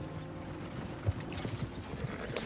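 Horse hooves clip-clop at a walk in Red Dead Redemption 2, a few soft uneven thuds over a low game ambience, with light creaking of tack.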